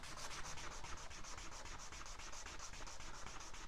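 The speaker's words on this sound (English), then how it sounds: "So just going to using a bit of sandpaper on my bench." A small part for a 1/6 scale Armortek Hetzer model tank being rubbed with sandpaper on a bench, a steady, rhythmic back-and-forth scratching close to the mic, quiet and continuous with no talk.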